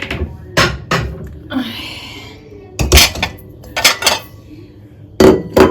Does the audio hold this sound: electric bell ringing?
no